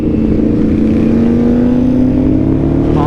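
Ducati motorcycles rev nearby, a loud, sustained engine tone that climbs smoothly in pitch, close and unbroken, with no voices over it.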